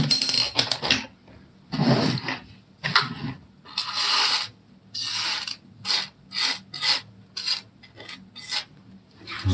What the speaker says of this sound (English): you just put them in the tumbler